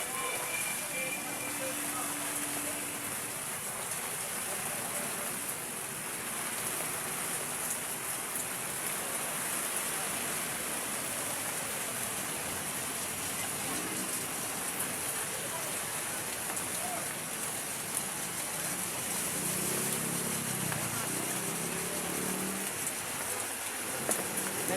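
Heavy typhoon rain from Typhoon Nando pours down steadily over the Divisoria market, a dense continuous hiss with faint voices and low murmurs beneath it.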